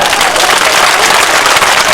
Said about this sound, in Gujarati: બે હાથ ઊંચા રાખીને જોરદાર તાળીઓ પાડો